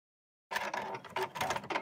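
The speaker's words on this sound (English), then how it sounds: "I'm going to just sew around here and attach it to the outer." Domestic sewing machine running a straight stitch on a reusable cloth sanitary pad, attaching the inner layer to the outer: a close, steady mechanical whirr starting after a brief silence, with short pauses and bursts as the stitching continues.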